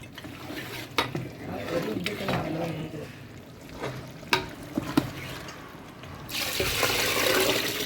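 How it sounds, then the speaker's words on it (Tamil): Water sloshing and swishing in a cooking vessel as it is rinsed while making mutton biryani, with a few sharp clinks and knocks, then a louder steady rush of running water toward the end. "இதில் கொஞ்சம் தண்ணி ஊற்றி அலசணுங்க"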